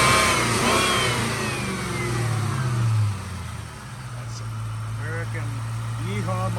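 A 1996 Ford Mustang Cobra convertible engine revs up with audible airbox intake roar, then settles to a steady idle-like drone; a voice talks over the engine near the start.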